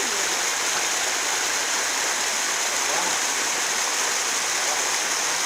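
Spring water flowing along a rocky forest stream, a constant, even rushing and babbling that stays close and steady throughout, with no voices.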